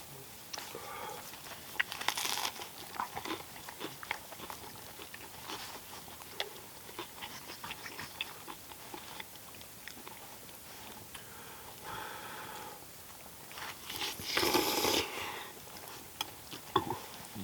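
A dog eats food at a campsite with quiet sniffing, crunching and clicking bites, soft and intermittent, rising into a few louder bursts of chewing and snuffling.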